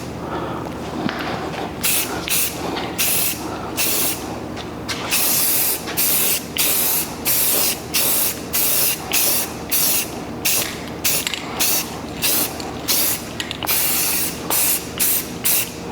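Spray painting a Ford Crown Victoria windshield wiper tray: a run of short, close aerosol bursts, each a loud hiss separated by brief pauses, steady and rhythmic throughout.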